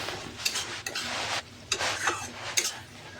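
A spoon scrapes and knocks against a pan while spice paste and yogurt are stirred, in several separate bursts of metallic scraping with short pauses between. No voices.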